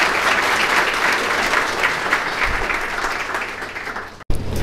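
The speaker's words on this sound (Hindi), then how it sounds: "ज़ोरदार ताली बजाइए।" An audience at a book release ceremony breaks into loud, sustained applause, steady dense clapping that cuts off abruptly near the end.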